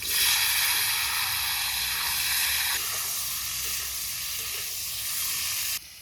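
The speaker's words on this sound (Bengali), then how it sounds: "এখন এই তেলে আলু ফুলকপি ভাজবো" Potato and cauliflower pieces seasoned with salt and turmeric frying in hot oil, a loud, dense, continuous sizzle that runs without a break and then drops sharply just before the end.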